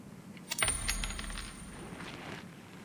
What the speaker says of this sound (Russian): Что ж, кидаю монетку. 50 тенге.